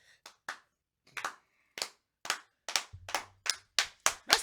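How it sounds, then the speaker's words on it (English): A group hand clap starting slow and steadily quickening, about a dozen sharp claps over a few seconds with gaps shrinking toward a fast rhythm, fairly close and clear with no talking. "Let's give him a hand clap."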